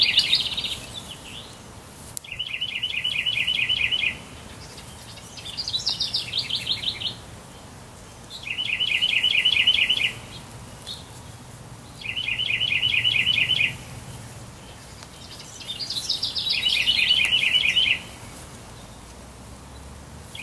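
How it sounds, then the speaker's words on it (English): Wild songbirds sing outdoors, repeating bright, rapid trilled phrases every few seconds at moderate distance over a quiet background, with no voices. "I could hear the wren."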